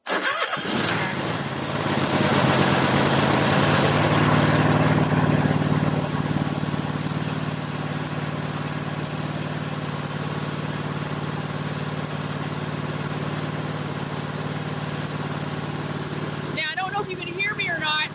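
A small engine on choke cranks and catches, then runs on at a steady, loud idle for the rest of the clip, with a voice briefly heard near the start.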